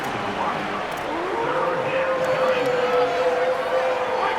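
A stadium crowd roars steadily in a college football video game between Utah State and New Mexico, a broad sustained swell of distant noise running beneath a commentator's voice.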